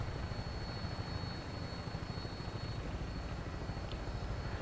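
A helicopter in the Fallout 4 video game holds a steady, distant rotor and engine drone that stays even throughout, with no talk.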